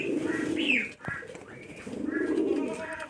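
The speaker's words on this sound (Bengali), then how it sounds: "এই দুটো কবুতর" Rajshahi Giribaz pigeons cooing close by, a couple of soft throaty coos with a brief wing or handling noise between them.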